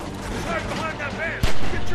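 A single sharp sniper rifle shot cracks out during a bandit attack in The Walking Dead video game, cutting loudly through steady game voices and background action.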